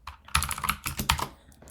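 A computer keyboard clatters as code is typed, with close, uneven bursts of keystrokes in quick clusters and short pauses between them.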